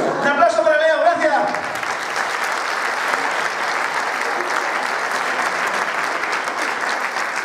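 Audience applause for a comedian at a comedy show, a loud steady wash of clapping that follows a brief stretch of a voice at the start and carries on unbroken.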